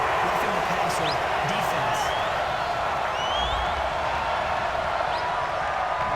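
A stadium crowd at an NFL game between the Arizona Cardinals and Los Angeles Rams roars steadily in a dense wash of noise after a penalty call, with scattered whistles and a broadcaster's voice faintly underneath.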